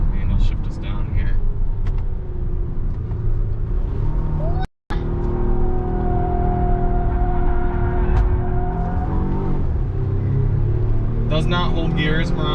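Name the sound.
Cadillac CT5-V Blackwing downshifting while driving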